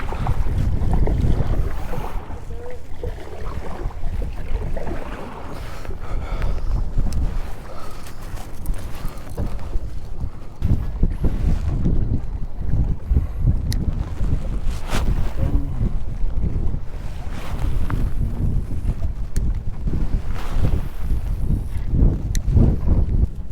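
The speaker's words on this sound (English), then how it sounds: "This wind is too terrible." Strong wind on a lake buffets the microphone while kayaking, a continuous loud roaring rumble with gusty surges that persists throughout, with a boat's faint knocks underneath.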